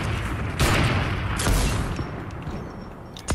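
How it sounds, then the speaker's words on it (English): Sniper rifle shots in Fortnite, a few loud sharp blasts spaced about a second apart amid ongoing game noise, with one more shot closing the stretch. "Sniper shots."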